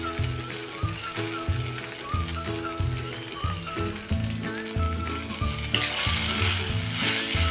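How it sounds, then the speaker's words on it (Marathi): Soaked poha (flattened rice) stir-fried in a pan with onion and turmeric, a steady close sizzle and frying crackle under a constant beat of loud background music. "पोहे चांगले परतून घेऊया"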